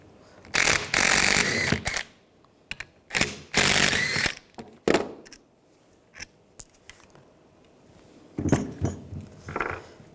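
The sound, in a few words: 14mm socket wrench removing brake caliper bracket bolts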